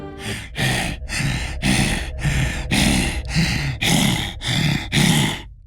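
A voice imitating a monster panting: eight heavy, raspy breaths in a steady rhythm, loud and close, each a harsh huff.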